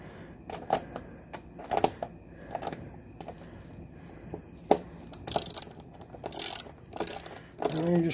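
Ratchet clicking in short bursts while tightening Acerbis skid plate bolts on a Suzuki DR650, close and moderately loud, with pauses between strokes and a few faster runs near the end.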